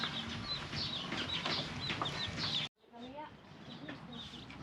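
Chickens clucking and chirping close by in a rural Bikol province yard, a busy stretch of bird calls that cuts out briefly and then resumes more sparsely, with people talking nearby.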